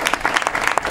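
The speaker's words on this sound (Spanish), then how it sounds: "Un fuerte aplauso." A burst of crowd applause, dense clapping from many hands, steady and fairly loud for the whole moment.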